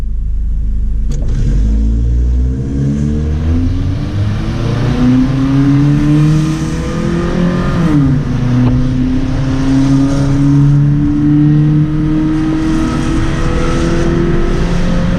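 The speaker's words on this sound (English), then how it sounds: "so 0 to 60 in the M cam. I'm not even going to brake load it or anything. I'm just gonna pin it." A car fitted with an upgraded M camshaft accelerates flat out from 0 to 60, its engine note climbing steadily and loud, dropping briefly at one gear change before rising again.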